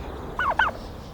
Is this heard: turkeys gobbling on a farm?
yes